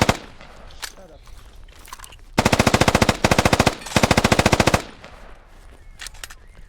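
Machine gun fire in a video game: two loud sustained bursts of rapid automatic fire, each lasting over a second, with a few scattered single shots and faint talk around them.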